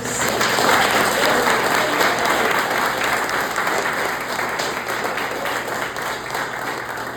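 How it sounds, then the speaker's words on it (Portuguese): A church congregation applauding during a women's day seminar, dense sustained clapping filling the room at a loud, even level throughout, with a steady hum underneath. "Você pode dar um aplauso para o Senhor Jesus?"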